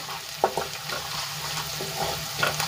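Turmeric with spices sizzles in hot oil while being stirred, a steady close crackle with small pops and a light scrape of a spoon.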